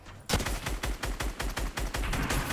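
Rapid automatic gunfire from the video game Fortnite rattles out in a fast, steady burst of about a dozen close, loud shots in quick rhythm, with no talk.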